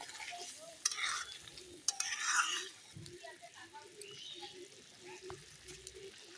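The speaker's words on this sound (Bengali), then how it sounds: "মশলার মধ্যে মটরশুঁটিগুলো দিয়ে দিচ্ছি মটরশুঁটিটা দিয়ে একসাথে কষিয়ে নেবো" Green peas being stirred and fried in spice paste over a stove, with a soft sizzle, scraping and light clinks of the spoon against the pan, while a voice talks over the cooking.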